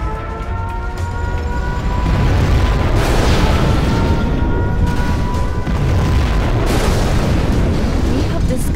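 A nuclear missile launch and explosion in Command & Conquer Generals Zero Hour: a loud, continuous rumbling roar that swells and holds steady, with layered booming and crackling throughout.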